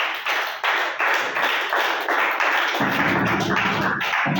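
A church congregation claps in unison to acclaim the Lord, a loud, steady rhythmic beat of many hands in a reverberant hall with no speech over it.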